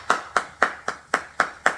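Seven evenly spaced, sharp hand claps from a single person, close and dry, with a steady rhythm of roughly four claps every second.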